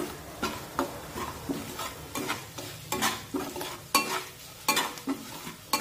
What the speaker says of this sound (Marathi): आता हे मसाले छानपैकी परतून घेऊया।